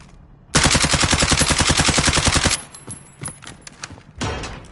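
Video game gunfire: a loud, rapid automatic burst of about two seconds, then scattered single shots and a final shorter burst, close and sharp, with no talk.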